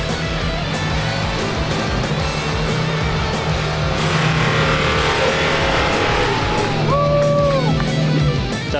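An off-road car's engine strains continuously at close range while climbing a steep muddy hill, revving and droning as it labors, with a couple of brief rising whines late on.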